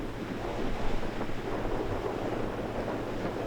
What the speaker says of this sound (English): It's very windy out there.